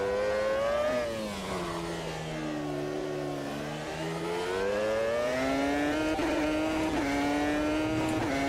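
A race car engine in a sim racing game drones loud and steady, its pitch sagging and then climbing again as the driver downshifts, with no one talking over it.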